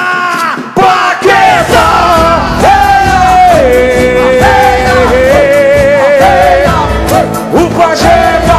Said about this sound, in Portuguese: A galera vai gritar.